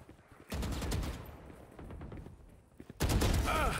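Gunfire in Valorant, bursts of rapid shots, a loud burst followed by a sustained volley and another heavy burst at the end, fairly close and punchy.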